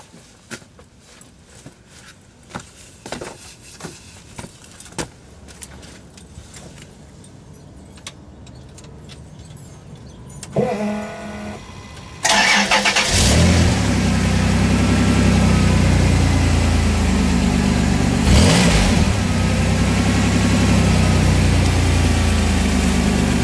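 Keys jingle and clatter for several seconds, then a 1990 Chrysler Imperial engine with its resonator removed cranks and catches, settling into a loud, steady idle with a couple of revs.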